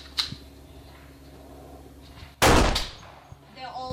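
A set of airsoft auto-reset targets flips back upright all at once in a single loud, sharp clattering burst that fades over about a second, with quieter clicks and knocks before and after.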